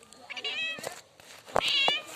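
A cat meows twice, close by, with a short pause between two drawn-out high calls.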